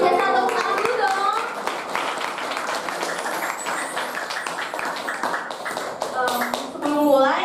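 Children and others at an Easter school event clap and applaud in uneven bursts, with taps and shuffling close by and children's voices chattering over the clapping.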